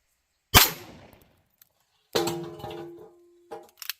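A CZ-52 pistol loaded with a Mosin bullet fires one sharp, loud report, then after a pause a second shot is followed by a metallic ringing clang and a few small clicks and taps.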